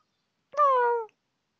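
A cat gives a single clear, close meow lasting about half a second, falling slightly in pitch, with silence before and after.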